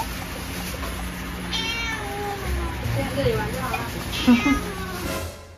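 A pet cat meows several times indoors, its cries rising and wavering at moderate loudness while a person talks over much of the clip.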